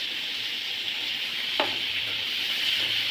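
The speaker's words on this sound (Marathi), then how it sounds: "आता मी कांदा घालून घेते यामध्ये मी फिरवून घेते" Onion sizzling steadily in hot oil, with a sharp stir or scrape near the middle and softer stirring later, all close and continuous with no talk, while cooking a Maharashtrian cauliflower and peas sabzi after frying garlic and ginger.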